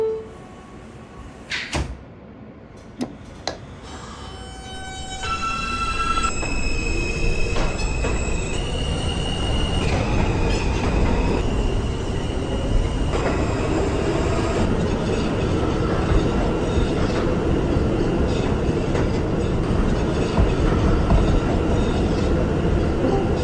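A Queens-bound R subway train on the F line, simulated in the openBVE train game, rolls steadily after a few door clunks, with a sustained loud rumble, squealing wheel tones and rising motor whines.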